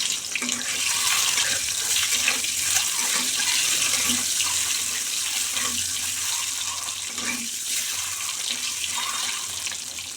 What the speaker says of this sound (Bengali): তেল গরম হয়ে গেছে, এবার ডিমগুলো ছেড়ে দেবো।